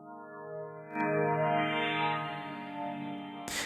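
A lush synthesizer preset from the Morphine plugin holds a rich chord that swells in about a second and sustains with shimmering harmonics, then cuts off with a brief bright burst of noise at the end.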